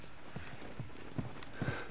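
Horse hooves in The Last of Us, a few soft clip-clop steps at an uneven pace, faint and muffled over a steady background hiss.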